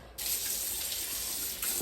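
Tap water gushes steadily from a faucet as beekeeping gloves are wetted for cleaning, a continuous hiss of running water heard alone with no talking.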